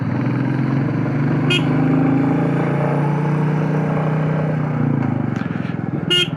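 A fully loaded vehicle's engine drones steadily as it climbs the narrow, rain-soaked ghat road of Phulwari Ki Naal near Udaipur, with brief sharp high bursts near the start and end and the pitch shifting late on.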